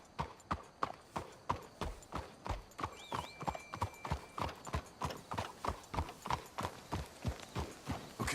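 Horse hooves clip-clop steadily in a video game, a brisk, even rhythm of close, sharp hoofbeats that continues throughout, with a brief whinny partway through.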